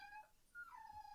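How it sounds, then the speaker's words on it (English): A dog whimpering faintly in the distance, a couple of thin high whines rather than full barks, over quiet background. "Forgive my dog barking in the background."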